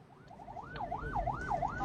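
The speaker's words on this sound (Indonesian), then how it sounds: "dapat kita dengar juga sirine ambulans ya di sini" An ambulance siren heard from the ambulance's own dashcam while passing a group of big motorbikes, a rising and falling wail that grows louder and more defined over steady road noise.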